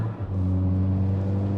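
A VW Golf 5 GTI engine and exhaust holding a deep, steady rumble with a slight rise in revs, close and continuous throughout.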